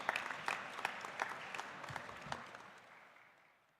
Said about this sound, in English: let's put our hands together and welcome with a big round of applause